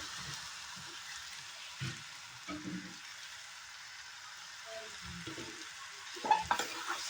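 Soaked rice being stirred in a pan with oil and spices for green chickpea pulao, soft scattered scraping and light sizzle over a steady low hiss, with a few sharper clinks near the end.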